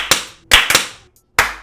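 Hand claps, four sharp slaps in a short uneven burst with a brief gap before the last, close and loud with no other sound.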